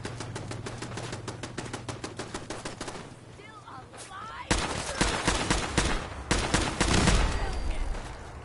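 Rapid automatic gunfire in Fallout, a steady rattling stream of shots that pauses briefly, then resumes louder and heavier with overlapping bursts and impacts.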